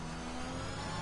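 An Alpine Formula 1 car engine in an F1 video game at the Austria track drones in a steady high-pitched whine, a brief continuous tone with no talking.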